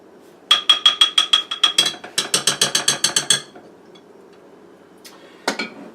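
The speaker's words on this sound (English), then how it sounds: "Looks like it needs a little further mixing here." Honey cake batter gets further mixing in a crockpot, two fast rhythmic bursts of clicking, evenly spaced taps close by, followed by a brief pause and one last short clatter.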